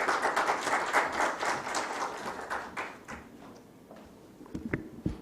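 An audience at the Water Sustainability Awards 2024-25 ceremony applauds to welcome a speaker: a dense, steady wash of clapping for about three seconds that thins out into scattered, separate claps before it ends.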